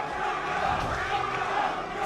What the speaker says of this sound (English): The crowd has two different champions